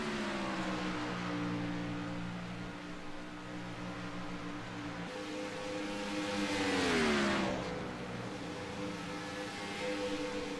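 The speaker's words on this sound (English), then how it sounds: "You hear Marcus shutting that engine off." Several race car engines whine at a steady pitch at a distance, then one swells louder and drops in pitch as it passes by.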